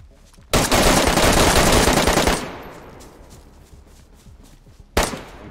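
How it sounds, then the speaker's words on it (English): Rapid automatic gunfire in DayZ on the Esseker map, a loud dense burst lasting about two seconds, then quieter crackling and one more sharp shot near the end. "Oh! I just got shot."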